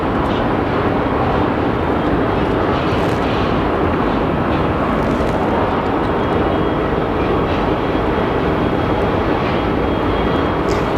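A Southwest airliner arriving at Phoenix Sky Harbor Airport gives a steady, loud broadband jet roar that holds unbroken for the whole stretch.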